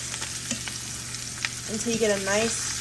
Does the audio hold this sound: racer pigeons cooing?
no